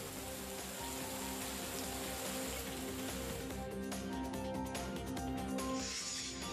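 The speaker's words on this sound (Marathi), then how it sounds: "वादळी वारे आणि विजांच्या कडकडाटासह हा जोरदार पाऊस सुरू आहे." Heavy rain pours down steadily and loudly during a stormy spell with strong winds, a dense continuous hiss of drops on surfaces with no one speaking.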